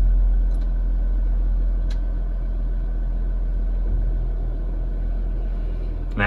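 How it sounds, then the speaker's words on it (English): An air suspension compressor on a Jeep EcoDiesel Grand Cherokee hums and rumbles steadily and close by as the vehicle slowly rises, with a brief clatter at the very end. "there's an air compressor that's running right now"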